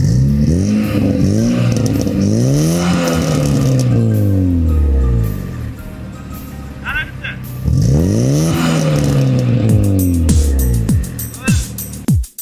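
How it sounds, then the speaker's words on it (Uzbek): A Lada 2107 with its original factory engine revs up hard twice, the pitch rising and falling in loud sweeps with a brief lull between, close to the listener. "Sizlar bilan o'zi bu original zavодской motorni o'zini eshitamiz."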